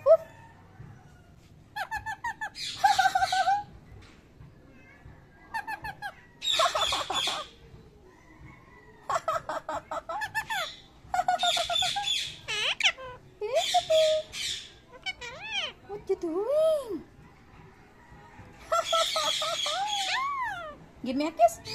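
A pet bird calls and squawks in bursts of shrill, wavering cries and squeaks, close and loud, with short gaps between calls; a person talks to it in between.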